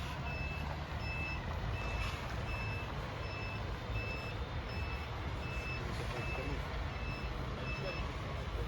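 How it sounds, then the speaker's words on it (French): A mechanics' truck reverses with a steady series of evenly spaced beeps over a constant loud engine rumble, during an evening at the team hotels for the Paris–Nice 2022 cycling race. "Là donc là le camion mécano."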